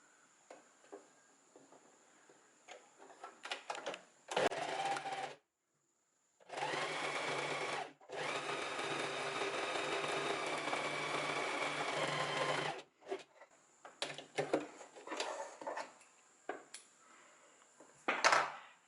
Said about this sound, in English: along the folded edge, we're going to sew with a 1 centimeter seam allowance away from the folded edge.